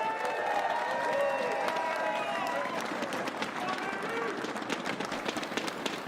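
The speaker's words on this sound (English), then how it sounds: "Give our branches one more round of applause for me." A crowd at the C.O.D.E. Bowl III event applauds with dense, sustained clapping and some cheering, loud and continuous throughout.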